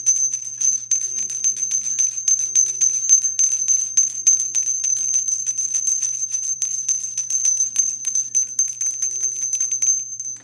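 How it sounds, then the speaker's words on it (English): A crystal bell rings in a rapid, continuous shimmering tinkle, clear and close, with a bright sustained tone held throughout. "This is a crystal bell"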